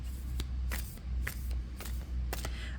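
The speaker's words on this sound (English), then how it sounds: "I can only shuffle this deck overhand like this." A tarot card deck is shuffled overhand, giving a series of soft, quick riffling card flicks in a steady rhythm, close up over a low background hum.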